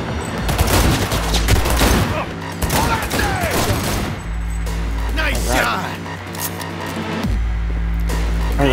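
Gunfire in the video game Cyberpunk 2077, a loud flurry of shots and impacts mixed with game effects and a droning hum, with a person talking over much of it.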